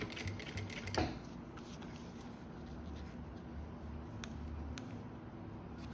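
A sewing machine stitches a zipper seam close to the teeth while making a reversible toiletry bag, a steady low mechanical whir with faint rhythmic needle ticking and a brief clack near the start.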